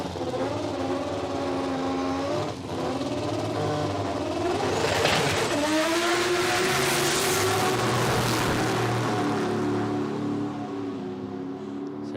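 A nitro funny car with a big turbocharged rotary engine runs down the track at Palmyra Dragway, a loud sustained engine roar that rises in pitch partway through and carries on without pause.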